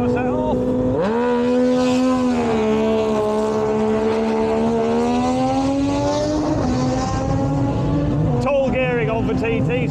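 A TT race motorcycle at the Isle of Man Tourist Trophy practice sets off from the start, its engine revving loud and close with rising pitch as it pulls away, harmonics sweeping upward, under crowd and commentary noise.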